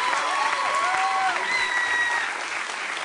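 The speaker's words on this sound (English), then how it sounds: "Let's give a round of applause for the governor and the secretary." Crowd applause for a governor and an education secretary at a back-to-school event, steady dense clapping throughout with faint voices and a few whistle-like tones over it.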